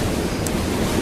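A rush of flood water in an audio drama surges as a steady, loud wash of broadband noise, like heavy waves breaking, with no voices over it.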